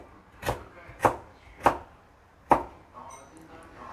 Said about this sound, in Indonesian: semua bumbunya itu cuma di iris-iris, dicincang kayak gini